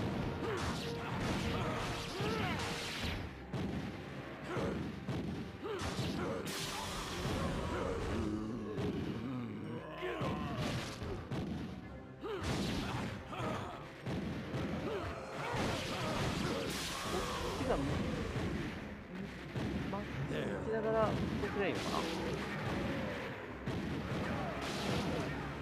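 Zombies fire cannons in the PSP game Undead Knights, a dense barrage of heavy booms and crashing impacts that carries on without a break, with a voice talking over the battle.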